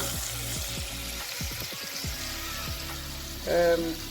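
Birria sauce hitting a hot pan gives a steady, close sizzle and frying hiss, with a brief brighter burst near the end.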